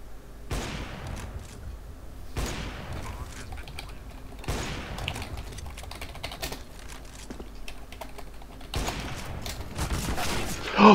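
Sharp gunshots from a gun in a video game come in separate bursts of rapid shots with gaps between them, close and fairly loud, mixed with keyboard and mouse clicks.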